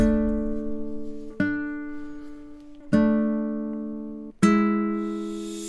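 Four sustained chords from a nylon-string guitar software instrument, soft in tone, struck at an even pace, each ringing out until the next one begins.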